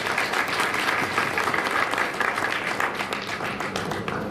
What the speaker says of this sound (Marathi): आपण सर्वांनी एकदा आपल्या सर्वांसाठी एकदा जोरदार टाळ्या वाजवल्या पाहिजे